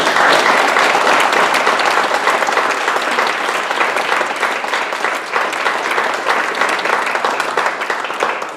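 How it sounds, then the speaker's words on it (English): An audience gives a sustained round of applause at a mayoral ballot forum, steady dense clapping that holds loud for the full stretch before tapering slightly at the end. "let's give them all a round of applause now"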